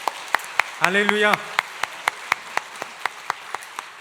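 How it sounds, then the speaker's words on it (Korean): A church congregation at a thanksgiving dedication service for a new sanctuary claps in a steady, even rhythm, and the sharp claps continue throughout while one voice briefly calls out over them. "살아계신 하나님께 감사와 영광의 박수 올려드리겠습니다."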